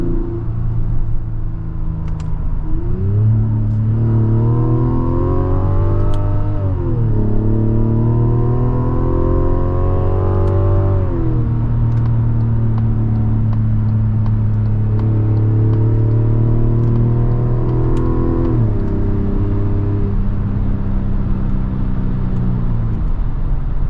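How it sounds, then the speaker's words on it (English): A 2026 Mazda CX-90 Turbo Premium Plus driving around town, its engine note rising and falling through several gear changes, steady and fairly loud from inside the cabin. "driving around town in this 2026 Mazda CX-90 Turbo Premium Plus"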